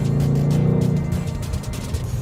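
A 2018 Ford Mustang GT Performance Pack V8 drones steadily as it holds a gear, a low rumbling hum heard from inside the car on a cool, lightly snowy day, with the pitch easing slightly toward the end.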